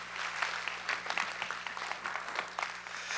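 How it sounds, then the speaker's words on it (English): An audience at a middle school spring choir concert claps for the choir students, dense steady applause from many hands filling the hall, with a faint voice underneath. "round of applause."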